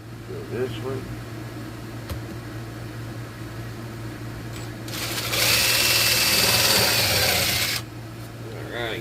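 Voices murmur over a low hum, then a power drill whirs for about three seconds drilling a hole and stops.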